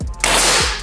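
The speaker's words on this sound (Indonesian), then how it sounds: "Kita coba lagi tembakan yang kedua." A single sharp crack from an imported pump air rifle fires once, loud and close, with a brief burst of noise that cuts off quickly.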